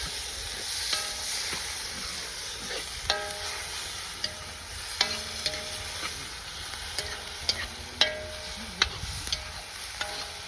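Chicken frying in a pan with a ginger-garlic mix, a steady soft sizzle under scattered sharp scrapes and taps of a spoon stirring, with no talk.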